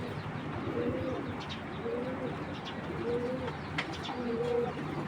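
Pigeons coo steadily in a repeating rhythmic pattern, several soft throaty calls in a row, against a constant background hum and faint chirps at a tournament pigeon setting.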